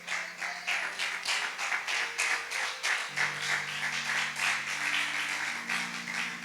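A church congregation claps in a steady rhythmic beat, many hands striking together in regular pulses while a low sustained organ or keyboard tone hums beneath.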